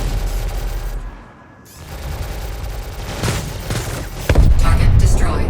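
Spaceship guns firing in a space combat game, with rapid bursts of gunfire and booming impacts under a steady engine hum, loud and close, plus a burst of heavier fire near the end.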